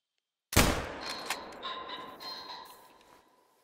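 A sharp, loud rifle shot in the hunting game theHunter Call of the Wild cracks out alone, followed by a long rolling echo and creaking mechanical rattle that fades over several seconds.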